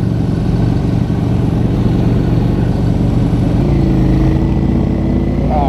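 A motorcycle engine idles and rumbles steadily up close, loud and continuous, with a slight rise in pitch near the end.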